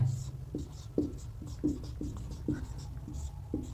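Chalk or marker strokes on a board while jotting the next point of a history lesson, a run of short scratchy taps roughly every half second over a low steady room hum.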